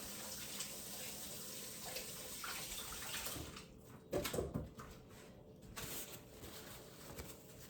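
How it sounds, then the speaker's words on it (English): Tap water runs steadily into a kitchen sink as hands are rinsed, a faint continuous splashing that briefly turns louder and choppier as the hands move under the stream. "Let me rinse my hands off here."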